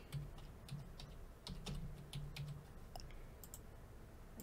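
Mouse clicks while configuring shared folders in an OpenMediaVault 5 setup on a single disk: several sharp, quiet clicks scattered irregularly over a soft steady hum.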